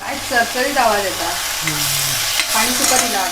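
Steady sizzling and scraping of a vegetable dish being stirred in a hot iron wok, close and continuous, with someone talking over it.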